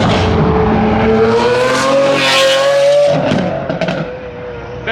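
A modified Ford Mustang S650 roars hard at a car meet, its loud engine note climbing steadily for about three seconds before easing and fading as it pulls away.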